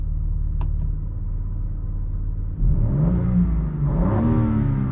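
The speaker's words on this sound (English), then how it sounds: "See, now you don't hear that bassy sound anymore, right?" A BMW M car engine with the M sound switched off, idling with a steady throb before a sharp rev climbs and rises again, loud and close yet less bassy.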